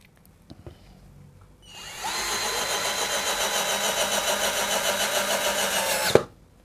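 A Mollar 12 volt cordless drill spins up after a few faint clicks and runs at a steady, loud, high whine for about four seconds before stopping abruptly.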